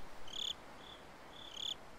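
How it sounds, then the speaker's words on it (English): Crickets chirping at night in Slender: The Arrival: thin high trills in repeated short bursts over a faint hiss, distant and quiet, with no one talking. "I hear crickets."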